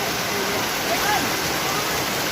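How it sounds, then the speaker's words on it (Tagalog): Steady, dense rushing of heavy rain at a house construction site, a continuous broadband downpour with no pauses, close and fairly loud. "lakas na ng ulan"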